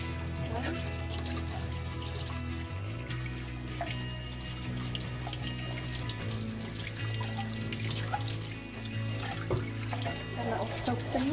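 Water from a kitchen tap runs steadily into a sink while Juico Uno juicer parts are rinsed under it, the flow shifting in tone partway through as the parts move in and out of the stream; no one speaks.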